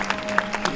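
Wedding guests applaud together right after the ring exchange at a ceremony, a brief, dense burst of clapping that fills the room.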